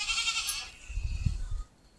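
A goat bleats once, a short nasal cry rising and fading, fairly near and alone with no talk over it.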